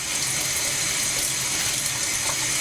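Slow-running cold water streams steadily from a kitchen tap while sushi is being prepared, a constant close hiss with a soft splashing texture and no pauses.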